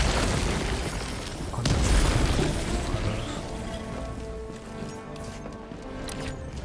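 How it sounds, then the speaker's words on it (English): A heavy grenade blast in Helldivers 2 swells into a deep, rumbling boom that lingers and slowly decays, with battlefield noise continuing beneath it. "Throwing grenade"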